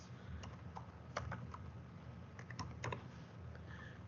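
Keys clatter in short, irregular bursts on a computer keyboard, with louder clusters of taps over a low steady hum, quiet and close, no voices.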